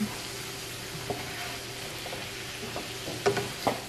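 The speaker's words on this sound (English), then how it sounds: "Give it a quick stir" Asparagus sautéing with lemon juice, garlic and mushrooms in a pan gives a steady soft sizzle, broken by a few sharp scraping stir clicks near the end.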